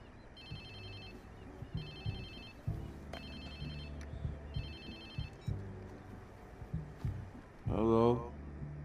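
A phone rings in the video game Watch Dogs 2, repeating in regular electronic bursts over in-game background sound, with a short voice-like sound near the end.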